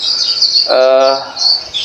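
A branjangan bush lark at a bird farm chirps loudly and up close in rapid, high, continuous twittering, with a lower harmonic call rising briefly in the middle.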